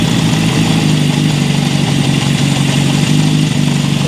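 A 1972 Honda CB750 Four with its head just replaced runs at about 2,000 RPM, an even, loud, close-up four-cylinder drone with a steady hum that never changes pitch, no voices heard.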